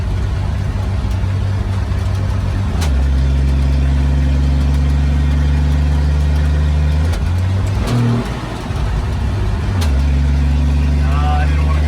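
A 70-year-old farm truck's engine idles with a steady low rumble from inside the cab, shifting pitch around gear changes while testing the 2-speed, with voices talking over it.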